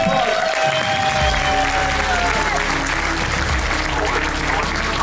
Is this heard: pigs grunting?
no